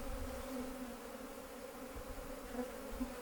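Honeybees at an open hive during an August inspection, a steady, faint, continuous buzzing hum with small swells, with no voices.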